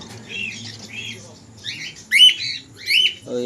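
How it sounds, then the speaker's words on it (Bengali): Cockatiels and budgerigars in a bird shop in Haldia give short, bright chirps and squawks in bursts, fairly close, with a murmur of indistinct voices underneath. "দেখে নাও কোকাটেল অনেক পরিমাণে কোকাটেল আছে বিডিং পেয়ার সেমি এডাল সমস্ত রকম পাখি রয়েছে"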